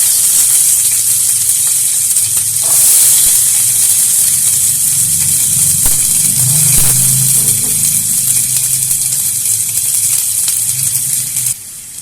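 Cumin seeds and onion sizzle steadily in hot oil in a home kitchen pan, a loud continuous frying hiss with brief bursts of crackle as the onion lands, with no talk.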